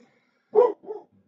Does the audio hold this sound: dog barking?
yes